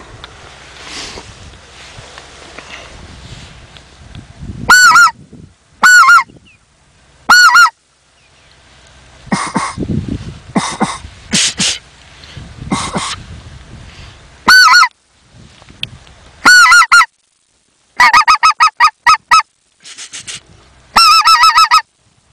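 A goose call blown in short bursts gives loud honking imitations, single and in rapid clusters, separated by quiet gaps and soft handling noise.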